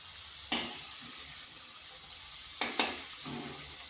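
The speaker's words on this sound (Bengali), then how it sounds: "আর এগুলো একটু লাল লাল করে ভেজে নেব।" Snack pieces frying in a pan of oil until reddish and crisp, a soft steady sizzle broken by a few sharp clinks and scrapes of a utensil against the pan.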